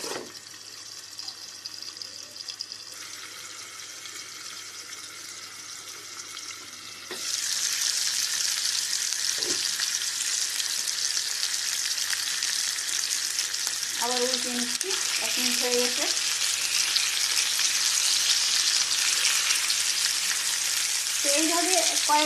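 A whole hilsa fish frying in a pan with its lid on, a steady hiss of oil that swells louder and brighter partway through, with faint clinks of utensils and no speech.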